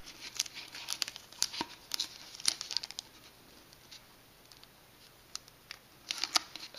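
Tape being pulled and pressed onto paper rocket fins, scattered crinkly crackles and short tearing sounds, close and quiet, with a lull in the middle.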